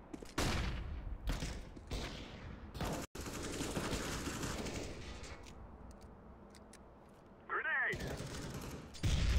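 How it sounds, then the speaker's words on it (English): A flashbang grenade goes off in a first-person shooter game, with loud sharp bursts and clatter, a long ringing wash of noise afterward, and a rising whine near the end. "I throw in a flashbang."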